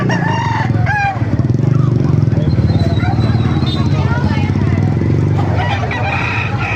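Roosters crow repeatedly and chickens cluck at a busy poultry market in Baliuag, Bulacan, close and loud, with people talking steadily over the birds throughout.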